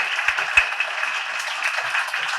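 Audience applause for a teacher at a school event for grade 5 to 10 students, a steady broadband wash of many hands clapping together, moderately loud and continuous for a couple of seconds with no talk.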